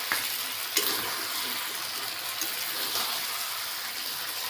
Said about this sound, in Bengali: ভেজে রাখা আলু দিয়ে ভালো করে কষে নেবো